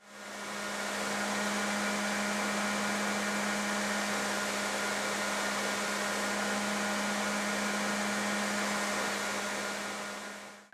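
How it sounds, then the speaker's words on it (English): A bench grinder squares up a block of Micarta knife handle material, giving a loud, steady whirring grind with a strong constant hum that runs unbroken for the whole span, no voices. "First, I square up my Micarta roughly on my grinder."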